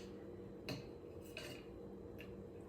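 A spoon clinks against a metal cocktail shaker while adding cream of coconut, giving three sharp, quiet metallic taps spaced apart over a low background hum.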